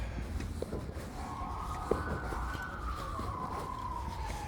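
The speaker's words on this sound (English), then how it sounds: "And you hear the sirens, right?" A police siren wails with a long rising and falling tone over steady traffic rumble, fairly distant and continuous.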